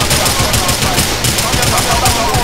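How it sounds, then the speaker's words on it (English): Rapid automatic gunfire in a shooting video game, loud and sustained bursts of close shots in a fast steady rhythm, filling the whole moment. "I'm shooting you anyways."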